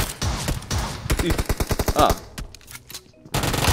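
Rapid bursts of automatic gunfire in PUBG Mobile, a quick string of sharp evenly spaced shots that pause and then resume, with brief exclamations from a player over the shooting.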